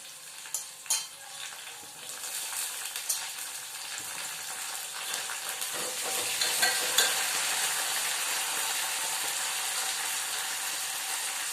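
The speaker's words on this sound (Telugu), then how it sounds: "మెంతాకు వేస్తున్నా." Fenugreek leaves fry in a pan with a soft sizzle that swells partway through, broken by scattered clinks and scraping stirs.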